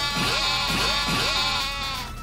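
Sheep in the video game Yakuza: Like A Dragon give three quick, nasal bleats in a row, each one clear and close over a faint steady background.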